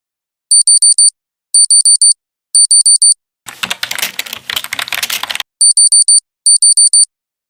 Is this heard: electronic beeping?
yes